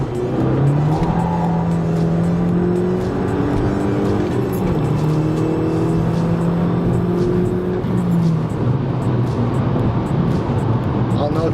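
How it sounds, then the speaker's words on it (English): A manual Mk5 Jetta 2.0T TSI fitted with a dogbone mount insert accelerates at full throttle in second gear, its loud, close engine note climbing steadily in pitch with brief dips between pulls. "I'll note that that was in full throttle."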